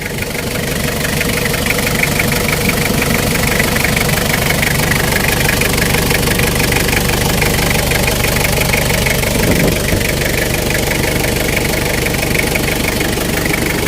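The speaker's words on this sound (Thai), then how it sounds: "เสียงเครื่องนี่นิ่งมากๆครับ เสียงนิ่งมากๆเลย" A Toyota Hilux Tiger pickup truck engine idles steadily and loudly up close, a constant mechanical drone with a fine rapid clatter and no voices.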